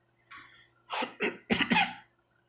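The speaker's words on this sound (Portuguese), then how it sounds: "Pô, que pigarro chato." A person clears their throat several times in a row, rough and close, in short harsh bursts.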